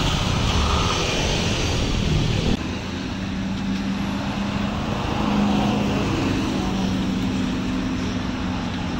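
A heavy Hino 500 tronton container truck rumbles along the road at close range, a loud, steady engine and tyre roar with a low droning tone that shifts slightly midway.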